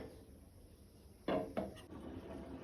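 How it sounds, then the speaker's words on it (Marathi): A lid set onto a pot of potato and green pea curry: two quick metallic knocks, close and clear, then a low steady background with no voices. "हाजेर झाकण घालून भाजी शिजोवन घेवया"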